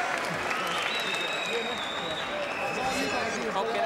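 A boxing arena crowd on its feet during Jamie Moore vs Matthew Macklin, a roaring wash of cheers and applause throughout, with a commentator talking over it.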